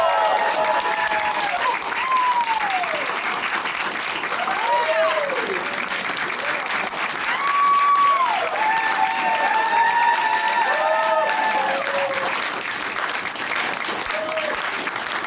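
An audience applauds and cheers for the band, steady loud clapping throughout with whoops and shouted cheers rising and falling over it.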